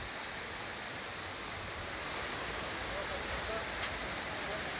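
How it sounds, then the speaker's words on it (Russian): Steady rain falls on a roof in Lazarevskoye, Sochi, a dense, even hiss at close range that continues unbroken with no voices over it. "Ну, дождик идет вот на крыше и все."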